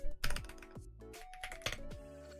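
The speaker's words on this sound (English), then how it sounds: "Let me pull my keyboard first." Keyboard on a pull-out tray being slid out, then typed on, with clattering key strikes and a few sharper knocks, fairly close and busy throughout.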